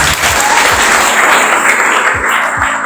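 An audience at a business presentation claps in a dense, steady burst of applause, loud and close throughout, with no voices above it.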